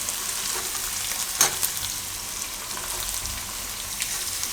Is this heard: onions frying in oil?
yes